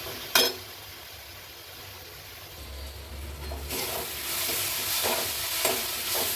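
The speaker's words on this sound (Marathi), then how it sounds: "कांदा टमाटर आता एकदम व्यवस्थित परतला आहे" Onion and tomato sauté in a pan, a faint sizzle that swells partway through, with soft stirring scrapes and a sharp clank at the start.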